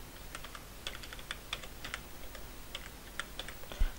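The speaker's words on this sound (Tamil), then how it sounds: "டைப் பண்ணிட்டேன்." Typing on a computer keyboard, a quiet run of irregular key clicks close to the microphone, ending in one heavier keystroke, with no talk.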